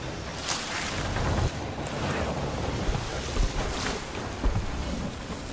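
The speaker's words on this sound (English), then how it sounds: "That's a lot of water coming in." Water rushes and sloshes into a damaged ship in the Sea of Thieves game, a steady broadband surge of wave and wind-like noise with a few heavier splashes throughout, no voices.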